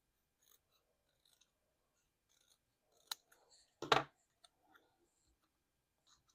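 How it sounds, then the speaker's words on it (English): Scissors snipping by hand around a paper cover page, a few sparse close clicks and cuts with one louder crunching snip near the middle, otherwise quiet. "I'm just fussy cutting this out and not even worrying about it being super straight."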